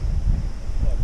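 Wind buffets the microphone while someone rides a Brompton folding bike uphill, a brief loud low rumbling gust with no clear voice over it.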